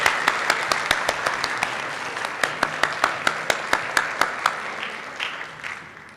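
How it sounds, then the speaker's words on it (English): Audience applause at the close of a day of physical sciences presentations, a dense steady patter of many hands with several sharp nearby claps on top, going on for about six seconds and slowly fading out near the end. "Let's give a round of applause for all of our presenters."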